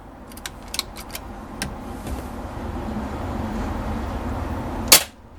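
A single sharp Baracuda air rifle shot cracks out loudly near the end, after a stretch of faint outdoor background and a few light clicks.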